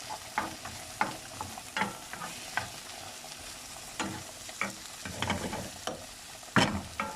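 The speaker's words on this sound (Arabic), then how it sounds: "لاصوص طوماط فوالا ها هي كطيب غادا" Tomato sauce simmering and sizzling in a pan for lasagne, with repeated utensil stirring and scraping strokes at an irregular rhythm over a soft, steady bubbling bed.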